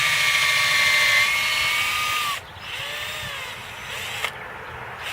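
A power drill boring into a tree trunk for a microinjection treatment, a high, steady whine that drops in pitch and cuts out briefly, then resumes more faintly with a shifting tone and a small knock near the end.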